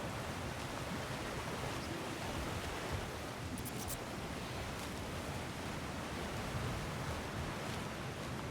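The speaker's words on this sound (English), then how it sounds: "Sounds like you got the water moving along" Water flows steadily through a channel in God of War Ragnarok, a broad, continuous rushing wash that stays even and fairly close throughout, with no voices.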